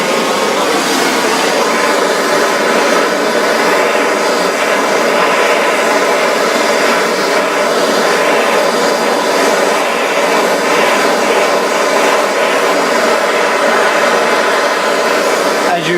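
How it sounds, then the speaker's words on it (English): A gas torch roars steadily and loudly while heating a copper nickel coin toward red heat, a continuous close broadband rushing hiss with no breaks. "I'm just going to use a gas torch and heat the coin up to a red"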